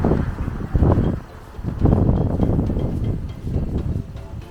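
Gusty wind in Guadeloupe buffets the microphone in low, rumbling surges that rise and fall across the clip, loud and close, with no voices.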